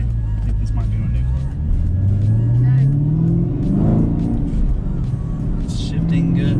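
A Chevrolet Camaro 1LE accelerates from inside the cabin, its engine pitch rising steadily and then dropping at a gear shift before climbing again, loud and continuous beneath people talking.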